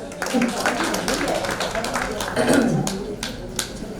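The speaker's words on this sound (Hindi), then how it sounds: "सुनीता जी के लिए भी तालियां" A small group clapping for a woman at a Maheshwari women's association meeting, scattered claps under continuous talking over four seconds.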